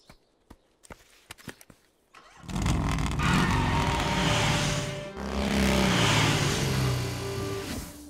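Several sharp clicks and clatters are followed by a loud motorcycle engine roar that revs up and drives past, then roars again, close and powerful.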